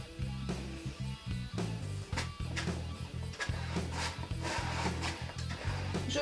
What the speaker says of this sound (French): Je prends de la matière sous ma lame et en maintenant mon tableau, je commence à poser mon bleu.